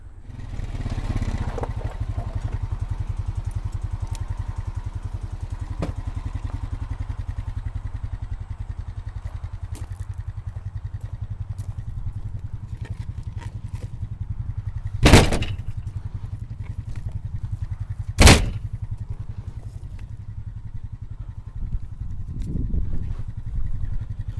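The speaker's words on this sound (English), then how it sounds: "I'm going to get the four-wheeler over here with the little yard trailer" A four-wheeler ATV engine runs continuously with a yard trailer hitched behind, a steady mid-pitched drone punctuated by two sharp clanks near the end, in a yard while hauling black birch firewood rounds.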